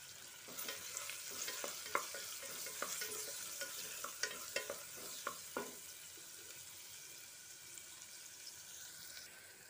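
Crushed ginger and garlic frying with onions in a pan, an even close sizzle broken by a run of sharp spatula scrapes and taps that fade out toward the end, with no voices.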